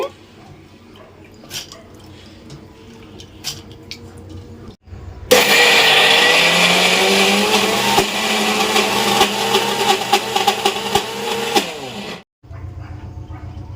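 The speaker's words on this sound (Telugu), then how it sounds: "ఇప్పుడు పెసరపప్పు అయితే మనం మిక్సీలో వేసేస్తున్నామండి" A kitchen mixer grinder grinding green gram (moong dal) for pesarattu, a loud, steady whirring roar that starts abruptly, runs for about seven seconds and then cuts off, with quieter kitchen sounds before and after.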